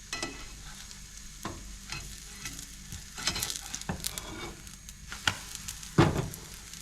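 Pancake batter frying in a hot pan, a steady soft sizzle with scattered clicks and scrapes as it is turned, one sharper knock near the end.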